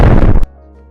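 A loud explosion sound effect bursts with debris for under half a second, then cuts off abruptly to near silence with a faint low hum.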